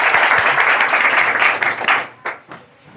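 An audience gives loud, dense applause for a girl student being honoured at a motivational speech gathering, steady clapping that thins out near the end into a few scattered final claps.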